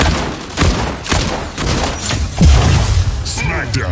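Weapon fire in the mech combat game Mech Arena during a free-for-all match: rapid bursts of shots and booming impacts hit every half second or so, loud and close, with a heavier blast near the end.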